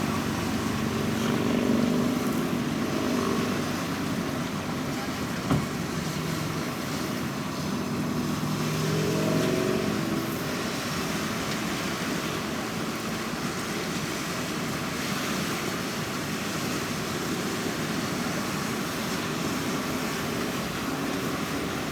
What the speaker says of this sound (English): press the spin speed button until it goes to high speed spin and then press start. And it'll run really fast